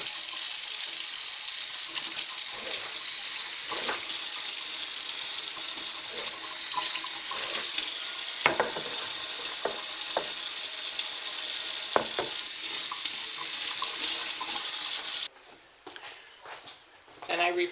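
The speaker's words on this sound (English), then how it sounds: "Then I rinse the jars with water to make sure there's no sweet tea on the sides" Tap water runs steadily into kombucha jars as they are rinsed, a continuous close splashing hiss with occasional knocks of glass, then the flow cuts off near the end, leaving quieter handling sounds.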